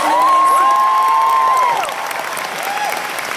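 Closing ceremony crowd at an anime convention applauding and cheering, loud close clapping with whoops, a held tone over the top, then easing slightly but continuing.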